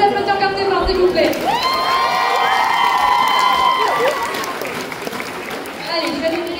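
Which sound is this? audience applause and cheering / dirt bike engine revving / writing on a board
audience applause and cheering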